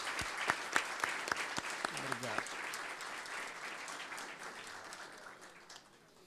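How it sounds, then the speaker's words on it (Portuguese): Audience at a formal meeting at a law school applauding, a few distinct claps at first swelling into a soft, steady round of clapping at a distance, with a brief voice underneath. "Vamos recebê-la com uma salva de palmas."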